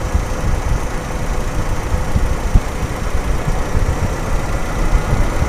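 A Toyota Kijang Super engine idles close by during a tune-up with the throttle set raised, a steady rough rumble with a faint knocking pulse and no talk over it.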